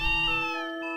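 A cat meows once in the video game Breath of Fire IV, a short, clear, tonal cry that slides downward and is heard on its own with nothing else under it.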